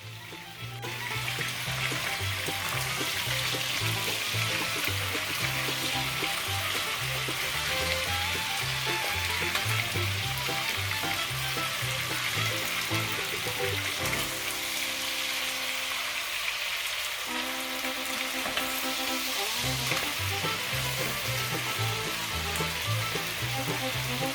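Wine-marinated chicken pieces sear in a hot pan with a steady, loud sizzle and crackle that runs almost unbroken, with brief dips as the pieces are moved or turned.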